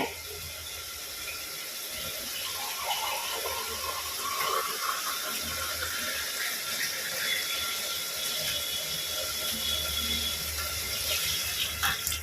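Water pours steadily into a pot of rice being readied for pulao, a soft continuous splashing and trickling stream heard close up in a home kitchen, with no talking.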